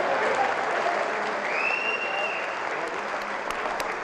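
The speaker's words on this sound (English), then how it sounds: "can we please have a round of applause for these two fighters?" Arena crowd applauding two boxers after a women's bout at a boxing event, sustained dense clapping with a faint whistle rising over it midway, holding at an even level.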